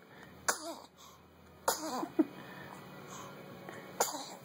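Several sharp, explosive sneezes or coughs from one person, three sudden bursts spaced over a few seconds, close and fairly loud against quiet background noise.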